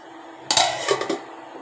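A metal plate used as a lid clatters onto a pot of boiling chickpea and brinjal curry, one sharp clang followed by a couple of lighter rattles as it settles.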